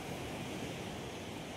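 Sea waves wash steadily against the shore in a continuous, even roar of surf, fairly faint and with no voices.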